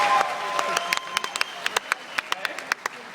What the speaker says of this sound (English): now everybody's clapping